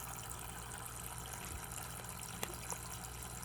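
Water running steadily for pet cockatiels to play in, a soft continuous trickling wash at low level with a couple of faint splashes, and no talk.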